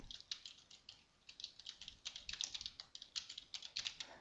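Quick, light keystrokes on a computer keyboard as a password is typed, a steady run of soft clicks fairly close and alone.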